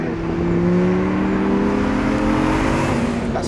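A 602bhp Lamborghini Huracan, the Gallardo successor, holds a loud, steady engine drone close by, its tone rising slightly over a few seconds with no voices.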